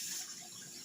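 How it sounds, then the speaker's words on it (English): Tap water runs steadily into a bowl of chips being soaked before going into an air fryer, a soft continuous hiss close by with no talking. "So get some water in there."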